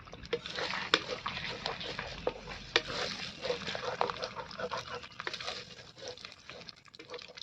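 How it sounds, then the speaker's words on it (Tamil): A spoon stirring egg rice in a pan over low heat gives a steady soft scraping and gentle sizzle, with a few sharper clinks against the pan. The sound stays continuous throughout. "நல்லா அந்த கட்டி ஆகிற அளவுக்கு நல்லா தொலாவி விட்டுக்கலாம்."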